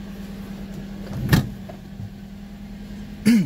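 Toyota Corolla Altis with an idle drop fault idling steadily while shifted into reverse, with a low constant engine drone, a sharp clunk near the middle and another mechanical thump at the end.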